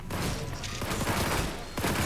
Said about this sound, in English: there was a loud noise as if of gunfire